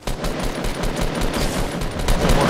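Rapid automatic gunfire in a Fortnite match, a dense, continuous stream of loud shots rattling for a couple of seconds with no talk over it.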